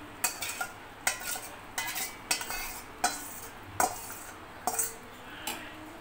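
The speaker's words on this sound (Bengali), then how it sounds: "এখন আমি এই যে বেটে রাখা ভাজা মশলাটা দিয়ে নেড়ে চেড়ে নামিয়ে নিব।" Ground fried masala being stirred into a hilsa fish and pumpkin curry, a spoon scraping and knocking against the pot in about nine sharp, evenly spaced strokes, close and clear, with no talking.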